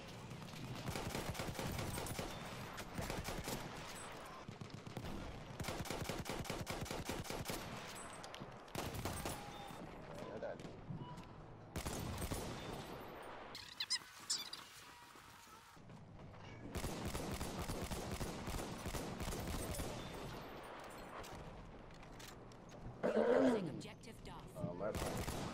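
Rapid bursts of video game gunfire crackle through most of the clip, some sustained like automatic fire, while people talk over the shooting.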